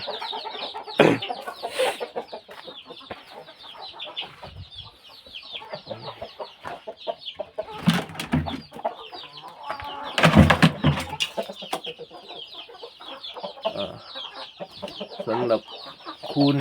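Thai gamecock chickens cluck and call on a farm, with a dense run of overlapping close clucks and occasional louder squawks while someone talks over them.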